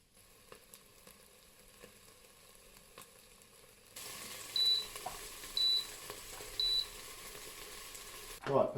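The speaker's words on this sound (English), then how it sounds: "grab the shallots and give that another browning." Shallots brown in a pan with a soft, continuous sizzle that grows louder partway through, while a few short electronic beeps repeat over it.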